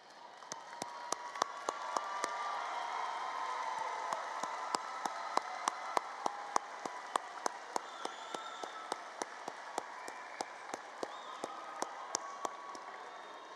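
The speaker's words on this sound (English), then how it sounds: "give them a round of applause" A graduating high school class claps for their families at a commencement ceremony, sustained applause from a large crowd, fairly distant, with sharp individual claps standing out near the microphone throughout.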